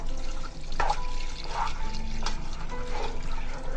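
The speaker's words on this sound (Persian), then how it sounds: "بعد یه مقدار آب داخلش" Water splashes and trickles steadily into a cooking pot holding ground walnuts, a continuous liquid pour with a few brief clinks, close by and fairly loud, no talking.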